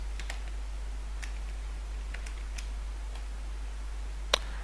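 Light key presses on a computer keyboard tick sparsely over a steady low electrical hum, faint and close, with one sharper click near the end.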